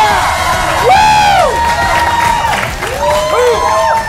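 A lively studio audience at a live San Diego TV show cheers, whoops and shouts, loud and close, with rising excited voices and some applause.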